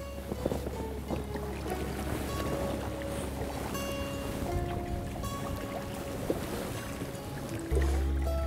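Wind gusting while fly fishing for sea trout from a float tube on open water off Gotland, a steady broad rush with low buffeting rumble and faint water movement, close and constant throughout with no talk.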